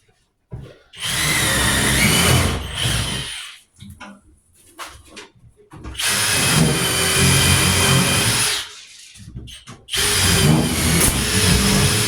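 Power drill driving into the backing of new cabinets, three loud sustained whirring runs of a few seconds each, separated by quieter gaps with small clatters and handling sounds.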